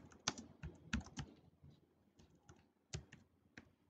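Computer keys are tapped one by one as a file name is typed, sparse clicky strokes at an uneven pace, close but quiet, with no talking.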